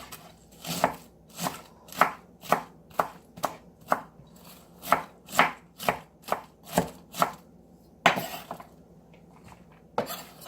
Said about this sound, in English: Just chop it up. But I don't chop it real fine. Just little small chunks.